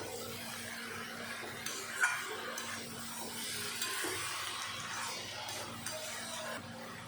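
Fried fish heads being stirred together with cabbage in a pan on the stove, a steady scraping and gentle sizzle continuing throughout with occasional louder clinks of the utensil against the pan.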